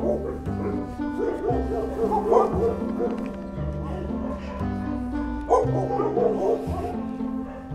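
Dogs in hospital kennels at an animal shelter bark, yip and whimper in a close, busy chorus that keeps going across the whole stretch, with louder bursts of barking rising now and then.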